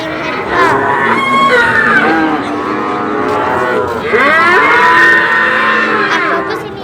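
Simmental cattle at the Wirosari livestock market, several loud, drawn-out moos overlapping one another against a busy background murmur of the market crowd.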